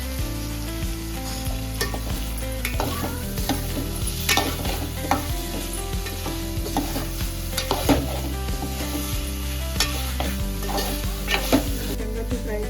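Drumstick pieces stirred and fried in masala in a pan, a steady close sizzle with repeated clacks of a spoon scraping the pan, loud and continuous with no talking.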